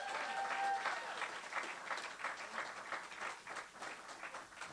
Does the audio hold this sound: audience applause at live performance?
yes